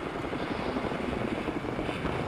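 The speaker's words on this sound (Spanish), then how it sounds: "Helicóptero, Gaby." A helicopter in the shooter game Battlefield 4 gives off a steady whirring rotor drone at moderate distance, continuous and without speech.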